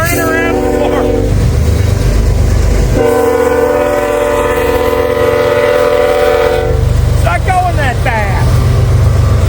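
A Norfolk Southern freight train passes close by near a collapsed building in cold weather, its horn sounding in long, loud blasts over the rumble of the wagons, with a person's voice talking at the start and end.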